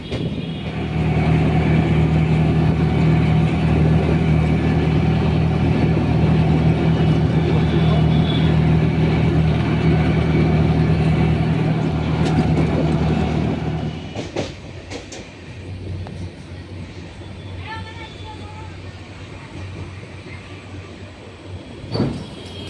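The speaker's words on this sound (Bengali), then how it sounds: "আর আমরা স্লিপার কোচে জার্নি করছি, এক্সপোর্ট ট্রেন ডিপার্স হয়ে গেছে" An express train, the 13151 Jammu Tawi Express, running with its low rumble and wheel clatter heard from inside a sleeper coach, loud and steady for most of the stretch, then dropping to a quieter hum.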